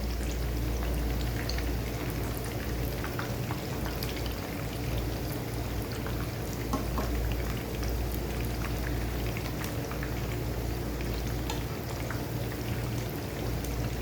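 Fish frying in a pan over a slow flame, a steady crackling sizzle with dense spitting pops that holds evenly throughout, close and moderately loud, with no talking.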